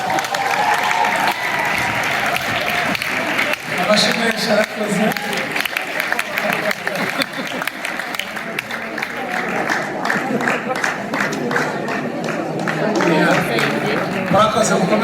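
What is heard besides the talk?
audience applause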